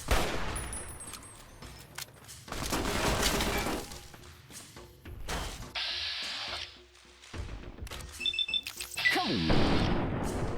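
Gunfire in the video game Fallout New Vegas, with bursts of rapid shots and crashing impacts in several loud clusters separated by brief quieter gaps, plus laser-like tonal zaps, no talk.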